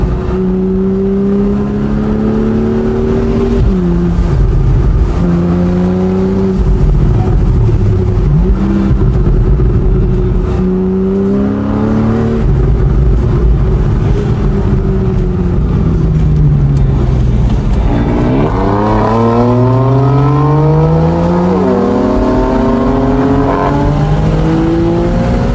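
Porsche 911 in Sports Plus mode chasing a BMW M4, heard from inside the cabin: the engine revs up and down repeatedly through gear changes, loud and continuous, with no talking.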